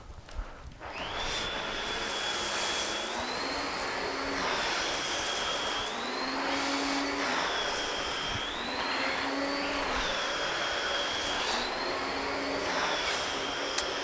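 A SEBO ET-H vacuum nozzle runs on a central vacuum system, a steady airy roar with a high whine that wavers in pitch as the nozzle is pushed back and forth, starting after a brief quiet moment.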